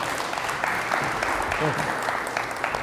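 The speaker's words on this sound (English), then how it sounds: "Let's have another round of applause for Chris." Audience applause at a virtual production industry forum, a steady wash of clapping filling the room for a departing presenter, with a voice faintly heard underneath.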